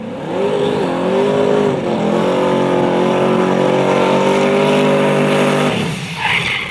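Drag racing car doing a burnout, a loud, close engine holding high revs with a buzzing harmonic drone and a brief wavering dip early on, then dropping off near the end, no talking.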